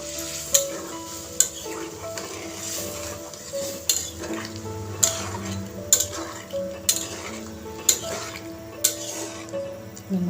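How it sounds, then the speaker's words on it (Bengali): Boiled chickpeas and their reserved cooking water being stirred in a pot, with a utensil clinking against the metal in a steady, repeated rhythm over a soft bubbling sizzle, close and fairly loud. "দিয়ে দিলাম, নেড়ে মিশিয়ে নেব।"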